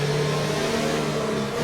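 Racing car engine in F1 2019 revving steadily through tyre-warming burnouts, a sustained loud mechanical drone with strong harmonic tones and no talk.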